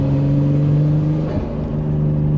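1998 Nissan Skyline R34 GT-R turbo engine droning loud and steady from inside the cabin, with a brief dip midway where the blow-off valve releases before the engine note resumes.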